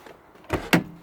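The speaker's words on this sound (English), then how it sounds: "Okay, I'm going to lock the car." Central locking on a Porsche Boxster S 986 with a faulty passenger-door lock actuating: two quick mechanical clunks about a quarter second apart, close and fairly loud, with no talking.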